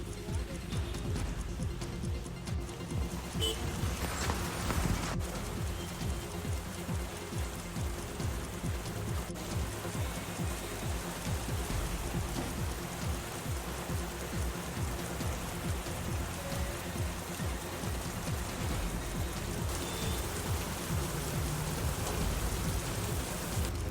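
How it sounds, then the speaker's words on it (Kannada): Heavy rain pours steadily across Himachal Pradesh, including Manali, a dense continuous hiss of drops on surfaces lasting throughout, loud and unbroken with a faint low rumble beneath. "ಹಿಮಾಚಲ ಪ್ರದೇಶದಲ್ಲಿ ಮನಾಲಿ ಸೇರಿದಂತೆ ಹಲವು ಭಾಗಗಳಲ್ಲಿ ಭಾರೀ ಮಳೆಯಾಗ್ತಿದ್ದು"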